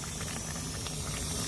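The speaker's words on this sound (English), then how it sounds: "That's a mass rolling boil." Half a litre of water at a vigorous rolling boil on a BRS lightweight backpacking stove, a close, constant bubbling hiss with a faint rattle and no pauses.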